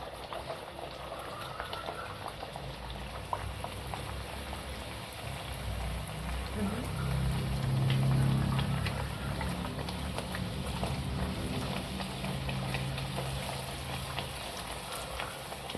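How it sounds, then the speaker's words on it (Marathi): Bhatura dough balls dropped into hot oil fry with a steady, dense crackling hiss that swells midway through and holds at a moderate, close level, with no talk over it. "तेल चांगलं तापलंय आणि मी आता याच्यामध्ये सोडलंय"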